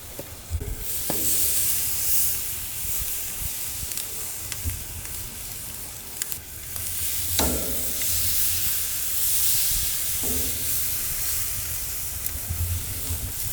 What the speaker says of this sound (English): we're going to put this bad boy on there, and we're going to just kind of get it nice grill marks